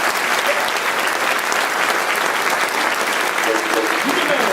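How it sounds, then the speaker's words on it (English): A bluegrass concert audience breaks into dense, continuous applause close around the listener, with a voice faintly speaking beneath it near the end. "Mr. Willie Wines, give him a nice round of applause, Mr. Will."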